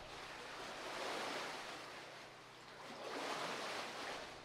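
Water sloshing and rushing as the lock chamber at Charleroi Lock and Dam drains, a broad continuous wash that swells and eases in slow surges. It fills the whole clip loudly with no talk.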